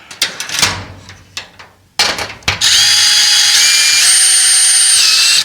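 A power drill whirs steadily and loudly as it drives screws into a part on a 1973 Mercedes 450SL R107 during suspension work, following a few scattered clanks and ratcheting taps beforehand.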